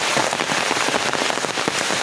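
Heavy downpour pattering onto someone walking through it, a loud dense hiss of drops with sharp irregular splatters, steady throughout and no voices.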